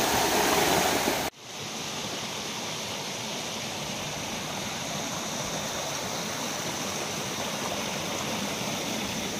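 Steady roaring rush of the Durga Ghati waterfall at Siuli, Ganjam, dense and continuous, with a brief louder burst at the very start before settling into an even, unbroken torrent.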